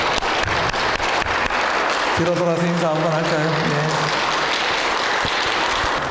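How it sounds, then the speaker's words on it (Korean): A congregation applauds to celebrate a pastor's installation at a Korean Presbyterian church service in Toronto. The clapping is steady and fills the whole stretch, with someone speaking over it. "축하의 박수 한번 해주시면 좋겠습니다"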